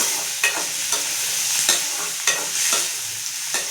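Onion and tomato sizzling in oil while sautéing for mushroom masala, punctuated by regular scraping stirs of a spatula roughly every half second, close and clear.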